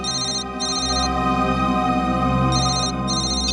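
A mobile phone ringtone plays steadily and loudly, a bright repeating electronic melody with brief pauses in the high tones, continuing throughout with no voices.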